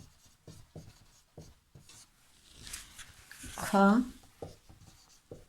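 A teacher writes on a classroom board during a Class VIII Sanskrit lesson, making a brief scratchy stroke near the end while she speaks intermittently.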